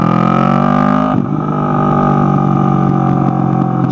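Motorcycle with a modified aftermarket exhaust runs loud and close, a strong harmonic engine drone that dips briefly around one second before settling into a steady idle-like rumble.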